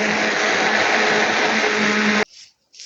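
A mixer grinder loudly whirs as it grinds mudakathan leaves for juice, a steady roar lasting a couple of seconds before cutting off abruptly, with a couple of faint soft sounds after it stops.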